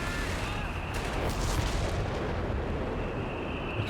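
A 3-inch anti-tank gun fires in Company of Heroes 3 amid a loud, continuous wash of battlefield noise, with booming artillery-like blasts and gunfire blending into the dense background.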